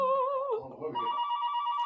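An electronic telephone ringtone warbles on an incoming call to a live radio call-in show, a steady two-tone trill that shifts pitch midway and carries on alone without talk.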